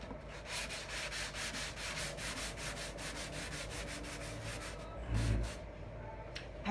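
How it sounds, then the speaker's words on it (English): Sandpaper rubs back and forth over painted wood furniture to distress the finish, a steady scratchy rasp with repeated even strokes close up, briefly heavier near the end, no talking. "I'm just gonna sand back and forth over the whole thing"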